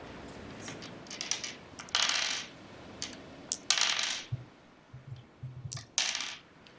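Percentile dice clatter onto a tabletop in several quick bursts of hard plastic rattling and tumbling, each settling with small clicks, close and fairly quiet with soft low knocks between.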